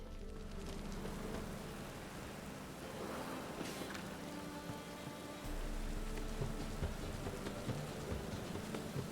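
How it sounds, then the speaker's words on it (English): Steady rain in The Witcher 3: Wild Hunt on PC, a constant hiss of falling water spread across the scene with faint scattered patters, moderately quiet and without voices. "Must be mad running around in this rain."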